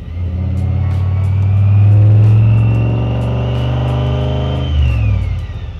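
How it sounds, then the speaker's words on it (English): A 1957 Chevy car engine revs up and settles in a steady, loud, full-bodied drone, swelling toward the middle and easing off near the end, with no voices. "If you add the engine, you get a lot more fidelity in the full bandwidth of the car,"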